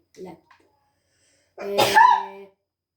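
A woman sneezes once, a sharp loud burst nearby after a short intake of breath, in an otherwise quiet room.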